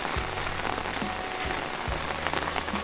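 Steady rain falls close by in the Laotian countryside, a dense continuous hiss of drops striking surfaces with a few heavier low thumps, fairly loud and with no voices.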